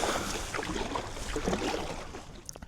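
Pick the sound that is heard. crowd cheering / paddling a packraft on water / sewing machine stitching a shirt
paddling a packraft on water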